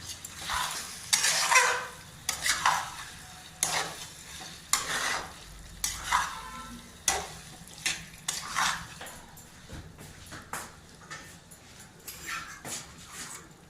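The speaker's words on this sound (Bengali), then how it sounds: "মশলাটা আগে মাখিয়ে নিই, তারপরে আমি আপনাদের সামনে ফিরে আসছি।" Mutton coated in salt, ginger paste and cumin, stirred in a pan: rhythmic scraping strokes of the spoon, one after another over a low sizzle, steady and close, without talk.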